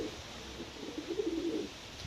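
Pigeons coo softly in a coop kept in a cellar, low rolling calls rising in the middle, fairly faint against a steady background hum.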